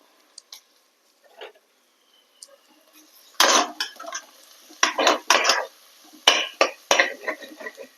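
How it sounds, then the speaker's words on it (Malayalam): A spoon scraping and clinking against a pan while onions are stirred, sparse taps at first, then a quick series of sharp metallic stirs close by with a faint sizzle. "ഇതിൻ്റെ ഒന്ന് പച്ചമണം മാറുന്ന വരയ്ക്കും ഒന്ന് ഇളക്കി കൊടുക്കാം"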